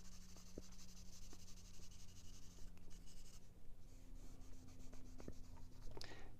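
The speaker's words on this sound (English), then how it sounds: "how I'm moving the pencil to create the shading" A pencil shades and hatches across paper while a sphere is drawn, giving close, quiet scratchy strokes in repeated short passes with brief pauses between them.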